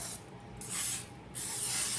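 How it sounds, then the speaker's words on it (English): Cooking oil sprays onto a baking pan for banana nut bread in two short hissing bursts, close and alone in a quiet kitchen. "Now it says to spray the pan with cooking oil."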